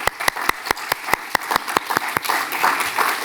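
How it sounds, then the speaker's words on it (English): An audience at a research talk gives a short burst of applause for the interpreters, starting as sharp separate claps at a quick, even pace and then blurring into a denser patter. "I would like you to give a big applause for the interpreters right in there, the humans in the loop"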